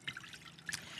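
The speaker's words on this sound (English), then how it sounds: "I fill the bowl with water" Water trickles faintly from a pour into a bowl while a Thanksgiving floral centerpiece is being prepared, a soft, brief splashing dribble heard alone and fairly quiet.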